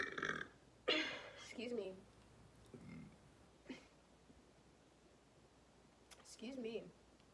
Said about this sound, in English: That was the loudest burp I've ever had on my channel.